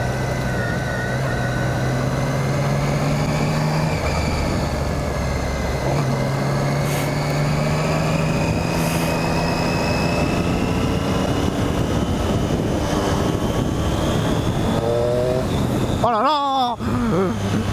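A Triumph 675 Street Triple motorcycle accelerates hard on the road, its engine note rising in several sweeping pitch climbs, loud and close, with wind rush throughout.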